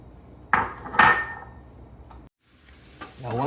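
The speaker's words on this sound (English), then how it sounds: "We'll go in with our thinly sliced red onions." Thinly sliced red onions drop into hot oil in a pan with two sharp clattering hits, then a soft sizzle and stirring scrapes follow after a brief gap.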